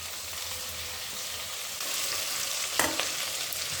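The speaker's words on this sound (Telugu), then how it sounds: "కాసేపు మగ్గాలండి ఇవి" Carrot pieces and curry leaves sauté in a pan, a soft steady sizzle that swells partway through, with a sharp utensil clink near the end; no speech.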